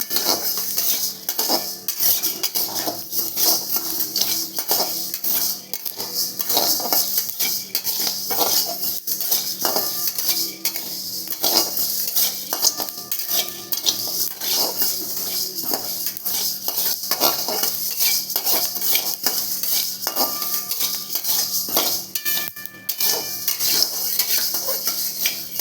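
Idli podi ingredients dry-roast in a pan, with a spoon or spatula scraping and clinking against the metal in repeated stirring strokes over a faint steady background, and no voices.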